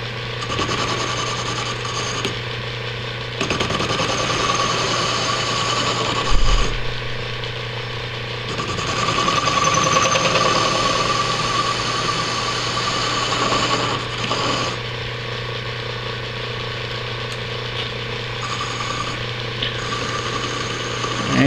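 An Atlas metal lathe runs steadily with a constant motor hum and whirring drive while cutting a radius on the end of a metal shaft, with faint scraping variations from the tool and brief shifts in load.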